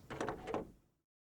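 A single short door opening sound from the visual novel Steins;Gate 0, a soft muffled slide and thud lasting about a second before fading to silence.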